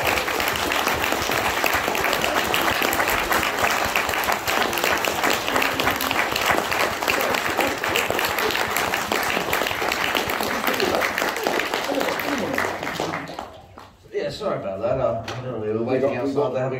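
A big audience at a Red Dwarf panel at Wales Comic Con applauds loudly and continuously for about thirteen seconds, then the clapping dies away and a voice starts speaking.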